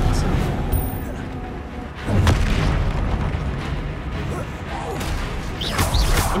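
Confringo blasting-spell explosions in Hogwarts Legacy gameplay: booming blasts over a dense game mix, with a heavy burst around the middle and another swell near the end, while a player speaks over the action.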